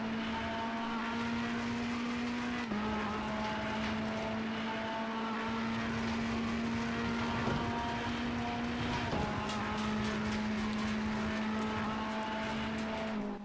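Ferrari 488 EVO GT3 race car engine in the racing game Assetto Corsa Competizione at Imola, a steady droning high-revving tone that shifts pitch twice, loud and continuous with no talk.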